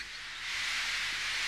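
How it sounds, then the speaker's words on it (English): Toy wooden railway steam engine lets off a continuous loud hiss of steam that swells after a moment and holds steady, close and alone. "Henry still stayed in the tunnel and blew steam at him."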